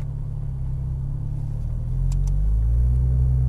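A Porsche Cayman R engine on a racing track rumbles low and steady, then swells louder and deeper about two thirds through as it shifts into sport mode, with no talk.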